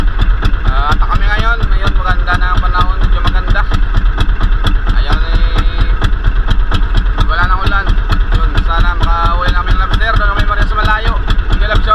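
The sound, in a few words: boat engine idling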